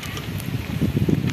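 Wind blowing at a reservoir during an afternoon rain in Jaguaribara, Ceará, a steady low rushing noise that swells louder toward the end, heard alone.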